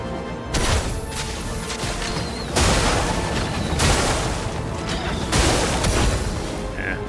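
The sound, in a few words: explosion skill attack in video game Expedition 33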